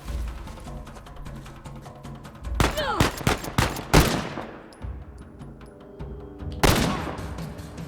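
Gunfire in Uncharted The Lost Legacy during a stealth encounter: a few loud, close bursts of shots with sharp attacks and ringing tails, separated by quieter stretches of ambient game sound.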